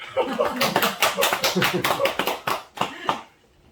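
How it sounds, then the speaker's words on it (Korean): A church congregation at a Wednesday worship service breaks into applause, a dense spatter of hand claps rising and fading over a few seconds, with a voice talking over it. "박수."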